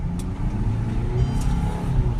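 A Mercedes E220 with newly fitted differential pressure sensors accelerates hard, its engine droning loud and close in a steady, rising pull with no talk over it.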